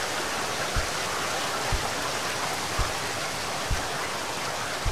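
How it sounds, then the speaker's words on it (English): Heavy rain pours steadily in the Ghost of Tomorrow video game, a dense continuous hiss with faint low thumps recurring about once a second, no voices. "Still raining like cats and dogs."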